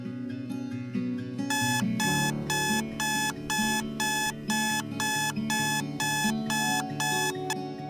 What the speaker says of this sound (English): Ashley is waking up as she turns off her alarm